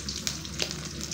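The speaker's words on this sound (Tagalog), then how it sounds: "nagpiprito na nga tayo ng tuyo." Dried fish (tuyo) frying in a pan, a steady close crackling sizzle with a few sharper pops, with no talking over it.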